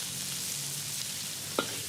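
Shrimp and squid sizzling in lard over a fire at a Thai street food stall, a close, steady crackling fry with a brief clink near the end.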